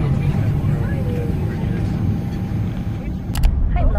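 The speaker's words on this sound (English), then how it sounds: "On the plane, we're moving." Heard from inside the cabin, a plane moving on its way to a dance competition fills the scene with a steady, loud engine roar and broadband rumble. Voices and small cabin sounds rise briefly over it.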